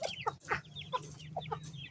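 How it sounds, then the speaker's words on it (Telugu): A mother hen clucks to call her chicks, a run of short, close clucks in an uneven rhythm with faint peeping between them over a low steady hum. "ఇప్పుడు కోడి పిల్లల్ని అయితే పిలుస్తుంది చూడండి."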